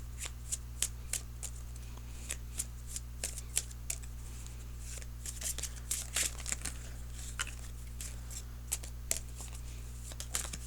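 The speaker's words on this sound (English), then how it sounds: "Now I'm going to go ahead and shuffle for an outcome card." Tarot cards being shuffled by hand, a steady run of crisp riffling flicks and soft card slaps close to the microphone over a low constant hum, with no talking.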